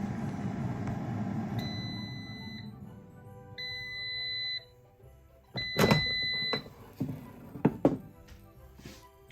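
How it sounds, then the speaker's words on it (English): An air fryer being set to 360 degrees and 8 minutes beeps several times, with clear electronic tones and a few longer held beeps, followed by button thunks and handling clatter close by in a kitchen. "Put it in the air fryer 360 degrees for 8 minutes."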